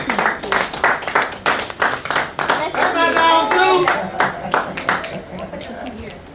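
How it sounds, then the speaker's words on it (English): An audience at a poetry gathering claps for a woman, with uneven, close hand claps that build into a fuller burst and then thin out, with voices and a brief cheer among the crowd. "a round of applause to my poor sister Gwen C."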